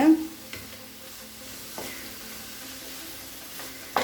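Cabbage masala poriyal with ground coconut and cumin is stirred in a pan, giving a soft, low sizzle with a few faint scrapes spaced a second or so apart.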